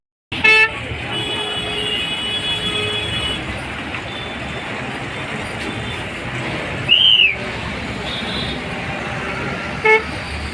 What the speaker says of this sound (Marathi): या ठिकाणी बघू शकतात दोन पाच किलोमीटरच्या अंतरावर ट्रॅफिक जॅम झालेले आहे